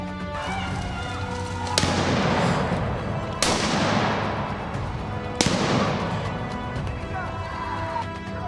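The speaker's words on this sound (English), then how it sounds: "a barrage of shots rings out again, halting the beast's charge" A wild boar hunt in a forest: three loud gunshots crack out a couple of seconds apart, each ringing into a long decaying echo, with a voice speaking over them.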